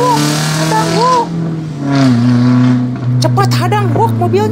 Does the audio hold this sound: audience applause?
no